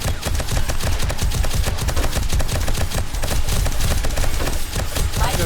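Automated turrets in the zombie survival game 7 Days to Die fire a rapid, continuous stream of loud shots, steady bursts filling the whole stretch with no pause.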